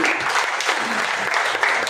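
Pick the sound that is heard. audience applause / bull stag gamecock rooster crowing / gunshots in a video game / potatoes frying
audience applause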